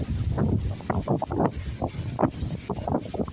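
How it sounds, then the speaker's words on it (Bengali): Strong wind from a Kalbaishakhi (nor'wester) storm buffets the microphone in heavy, uneven gusts, a loud low roar with bursts of rumbling throughout. "প্রচুর ঝড় বাতাস হইতেছে"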